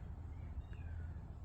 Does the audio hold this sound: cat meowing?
yes